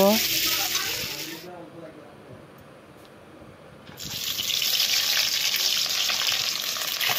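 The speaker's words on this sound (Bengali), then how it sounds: "এখন আলুগুলো লাল লাল করে ভেজে নামিয়ে নেব।" Washed, cut potatoes fry in hot oil in a Bengali home kitchen for a fish-and-potato curry, giving a loud, steady broadband sizzle at the start and end with a quieter lull in the middle.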